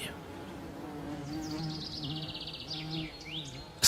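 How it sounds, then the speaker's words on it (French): Bees working early-blooming hellebore flowers, a soft continuous buzz close by, with faint bird chirps in the background. "C'est dans les fleurs précoces comme l'ellébore que les abeilles viennent faire leur premier plein de pollen et de nectar."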